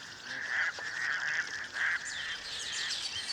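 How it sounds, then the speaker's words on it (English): Raucous toads call by day in a steady chorus of drawn-out trilling croaks, several strong pulses rising above a bed of distant chirping, with no speech. "these raucous toads are more audacious"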